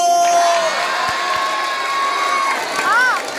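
Audience at a gay beauty pageant's national costume segment roars with steady cheering, whoops and applause, a dense continuous crowd wash with shouts rising near the end.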